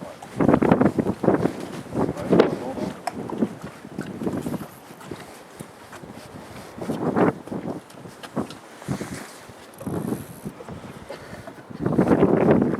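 Strong headwind gusts buffet the microphone at a carp fishing lake in rushing, roaring bursts, rising and falling throughout, with faint voices and water-like noise underneath.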